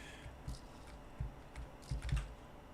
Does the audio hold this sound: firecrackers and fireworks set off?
no